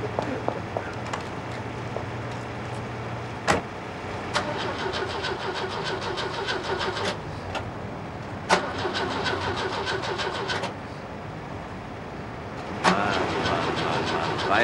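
A car engine cranks and catches in a street setting, then revs and runs steadily with repeated surges of acceleration as the vehicle pulls away, fairly close and without talking.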